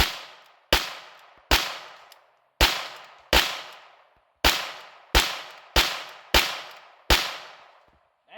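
Ten sharp rifle shots from a Chiappa 1022 .22, fired one at a time in a steady rhythm about three-quarters of a second apart. Each crack is loud and close and trails off in a long echoing decay.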